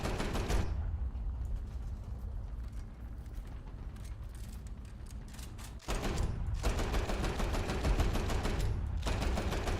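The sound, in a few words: aircraft machine gun fire in War Thunder video game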